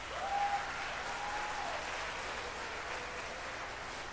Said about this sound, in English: Give our students and teachers, please, one more round of applause.